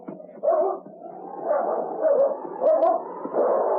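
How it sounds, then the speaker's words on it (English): A black husky in the Yukon barks repeatedly, giving four or five close, gruff barks in a steady rhythm. The sound is muffled and narrow-band, like an old recording. "Take dog away. Him chase me here."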